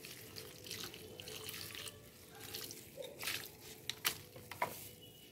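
Soaked oil-cake water mixed with banana-leaf water being poured onto a potted jasmine plant; a faint, close trickle and splash of liquid, with a few brief drips toward the end.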